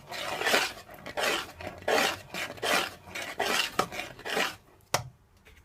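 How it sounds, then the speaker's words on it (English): A spoon stirs peanut porridge in a pan, scraping in regular rhythmic strokes, about seven sweeps with sharper clinks against the metal, close up and without talk, ending in a brief clank. "Just keep stirring, because the peanut, it's easy to burn"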